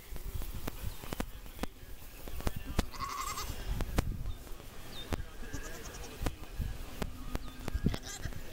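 Farm goats bleat now and then amid steady barnyard noise and sharp knocks, the calls moderately near, while a person talks among the animals.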